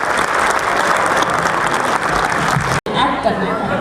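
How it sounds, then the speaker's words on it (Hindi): An audience at a husbands' night performance event applauds, with dense, loud clapping throughout, some chatter and laughter mixed in, and a brief cut near the end. "तालियां बजाएं।"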